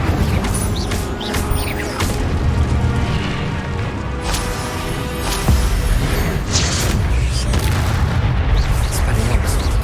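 A fire spell is cast in the Hogwarts Legacy video game amid a chaotic fight with zombie brutes, with booming, crackling blasts over a continuous loud battle din and a voice shouting spell names.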